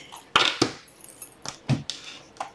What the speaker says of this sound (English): So I gotta shuffle these